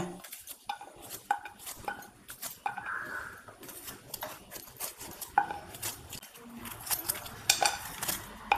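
Kitchen knife chopping vegetables on a board, irregular clicks and taps mixed with clattering utensil knocks, close and moderately loud, no talking.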